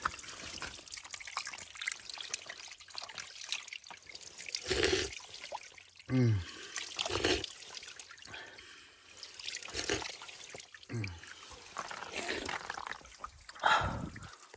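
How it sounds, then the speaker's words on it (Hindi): Water trickles and spatters down from high above in a village setting, an uneven outdoor flow with bursts and splashes, heard alongside someone talking. "देखो और यहाँ से आता है पानी एकदम ऊपर से"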